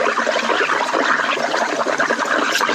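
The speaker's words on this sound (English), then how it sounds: "All because you're aerating that water." Water in a spa churns and bubbles steadily as it is aerated, a loud, dense, continuous rushing hiss close by.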